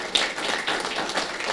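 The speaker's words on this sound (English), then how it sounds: "let's just do a quick round of applause for our wonderful panelists" A conference audience applauds panelists in a brief, steady round of dense clapping, fairly close and even in loudness, with no talking over it.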